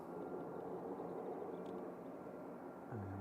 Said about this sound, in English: We've got a noisy prop coming out.